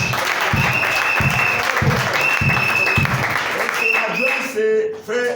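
Congregation in a church clapping to acclaim the Lord, a loud, close burst of applause with rhythmic unison claps that fades near the end as a voice speaks.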